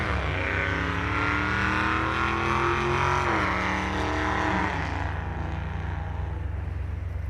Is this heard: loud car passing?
yes